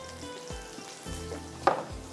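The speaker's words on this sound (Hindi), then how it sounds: "ये पीनट्स भी इसमें चले जाएंगे, हल्के से फ्राई होंगे" Peanuts fry lightly in hot oil, a steady soft sizzle close by, with a few faint clinks and one brief sharper knock partway through.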